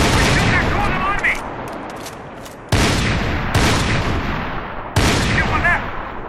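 Bursts of gunfire in Max Payne 3 ring out in loud, repeated volleys, each sharp crack trailing into a fading echo, with rapid shots clustered near the start.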